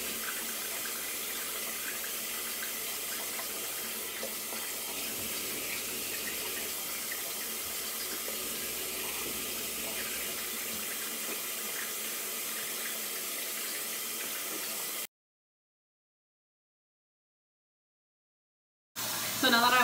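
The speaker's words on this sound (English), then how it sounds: "I'm gonna wet it with warm water and I'm gonna wipe this off." Warm tap water runs steadily into a bathroom sink during a skincare routine, a close continuous splash that cuts off abruptly for a few seconds before starting again.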